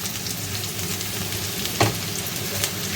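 Chopped onion, garlic, ginger and green chillies fry in hot oil with a loud, dense, continuous sizzle, broken by one brief louder scrape or stir near the middle.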